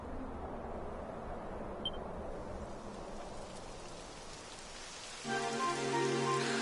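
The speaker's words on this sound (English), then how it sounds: "It would have to go and start raining, wouldn't it?" Steady rain hisses over a game scene in Dragon Quest XI, a soft constant patter that grows louder near the end as tonal game music comes in.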